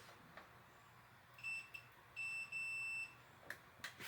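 Electronic beeps from a Whirlpool dryer with a no-heat fault as its knob is turned to heat: two short chirps, then two longer steady tones, faint against a quiet room hum, with a couple of soft clicks near the end.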